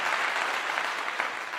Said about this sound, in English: let me give you a clap